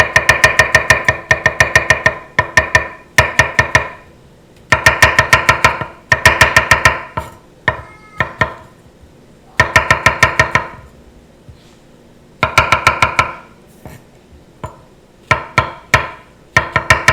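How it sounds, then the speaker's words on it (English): A knife chops mushrooms on a board in quick bursts of sharp, close taps, roughly five to eight strikes per burst, separated by short pauses. "Now I'm going to chop the mushrooms."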